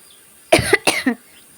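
A person with a persistent cough coughs several times in quick succession, close to the microphone, in an otherwise quiet room.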